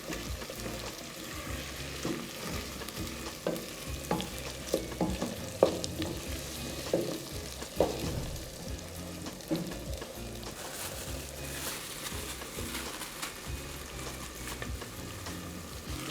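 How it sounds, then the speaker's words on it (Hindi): Potatoes, curry leaves and spices fry and sizzle steadily in a pan while a utensil stirs and scrapes through them in irregular close strokes, with no talking. "इन सबको अच्छी तरह मिक्स करें और तकरीबन 1 से 2 मिनट तक भूनें"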